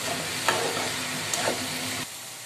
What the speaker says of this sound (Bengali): এবার ভালো করে নাড়িয়ে চাড়িয়ে আমি ঢাকনা দিয়ে একটু ঢেকে দেবো